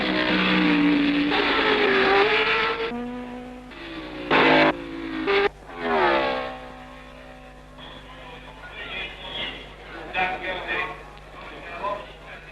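1962 Formula 1 race cars at Rouen-Les-Essarts, among them Dan Gurney's winning Porsche, drone past with rising and falling engine notes and sharp passing bursts, loud then fading, mixed with a commentator's narration.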